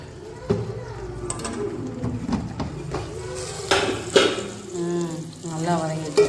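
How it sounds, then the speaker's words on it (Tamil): Onions and tomatoes sautéing in a pan for a chicken curry, a steady soft sizzle with scraping spoon strokes and clinks of a utensil on the pan, near and moderately loud, with a voice talking over it at times. "வெங்காயம் தக்காளியெல்லாம் நல்லா வதங்கிட்டு இருக்குது"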